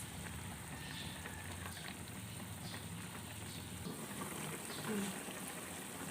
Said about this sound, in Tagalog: So guys, kumukulo na.